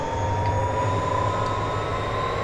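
A Union Pacific diesel locomotive engine in a train simulator game rumbles with a deep, steady drone and a faint whine over it, continuous and fairly loud, with no speech.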